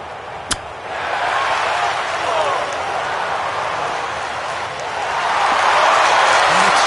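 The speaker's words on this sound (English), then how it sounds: "this crowd, let's say, muted in their applause" A golf crowd in PGA Tour 2025 gives a muted, scattered round of applause, a broad soft wash swelling gently after a sharp knock, heard beneath commentators' voices.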